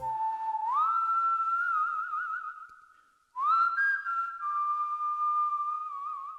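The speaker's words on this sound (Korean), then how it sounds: "뭔가 유쾌한 듯한 휘파람 소리로 영화가 시작합니다." Cheerful, melodic whistling carrying a bright tune in two phrases with a brief pause between, clear and close with no other sounds.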